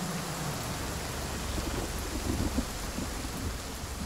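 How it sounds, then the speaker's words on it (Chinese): Steady, heavy rain falls through the whole stretch while low thunder rumbles and rolls underneath it, loud and continuous, with no voices. "现在又下雨了"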